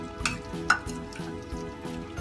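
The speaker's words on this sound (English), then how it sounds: "I'm just going to stir this and cook it until the sugar is dissolved completely in the liquid" A spoon scrapes and clinks against a pot on the stove while white sugar is stirred into liquid over medium-high heat, a steady rhythmic swirl with a few sharper metallic knocks and a light sizzle underneath.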